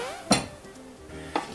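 Two sharp metallic clanks of a saucepan being picked up and set down, a moment of quiet handling noise between them.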